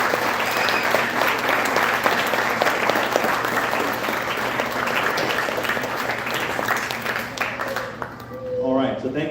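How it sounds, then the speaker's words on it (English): Sustained audience applause fills a sports awards banquet hall, steady dense clapping for about eight seconds before tapering off near the end, with some voices underneath. "let's give a round of applause to the parents"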